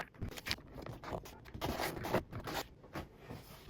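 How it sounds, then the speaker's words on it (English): Masking tape pulled off a roll and pressed down during a DeLorean LED upgrade, heard as quiet, close ripping and scraping bursts in quick succession, zipper-like and irregular. "Everything here is going to be covered with masking tape to protect it from any epoxy that may get onto it, so just masking tape everywhere."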